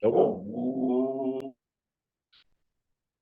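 A dog gives one drawn-out, growling bark lasting over a second, heard through an online meeting connection. A brief spoken word follows after a pause.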